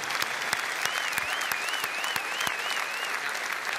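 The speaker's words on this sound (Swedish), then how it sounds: "Håll i den applåden, mina damer och herrar." A large audience at the 2009 Swedish sports gala, Idrottsgalan, applauds steadily, dense clapping filling the hall with occasional louder claps and a faint whistle on top.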